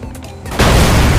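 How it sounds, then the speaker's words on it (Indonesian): A loud explosion from the Goat Simulator game erupts suddenly after a quieter stretch, a broad roaring blast that fills the rest of the moment with sustained rumble. "Wow, meledak coy,"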